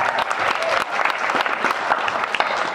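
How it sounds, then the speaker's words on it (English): Audience applause at a VidCon LGBT panel, a crowd of hands clapping loudly and unevenly in a short burst. "let's give her a round of applause"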